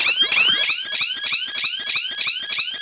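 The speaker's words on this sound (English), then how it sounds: "the siren will remain on until the LED stops blinking" Alarm siren from an Arduino-compatible keypad matrix security system, a loud electronic wail sweeping rapidly and repeatedly in short rising cycles, close and continuous with no speech.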